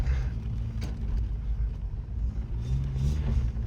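The engine of a cold drift car rumbles steadily and loudly at a fast idle while warming up, a dense low drone with slight rises and no clear revs or pauses.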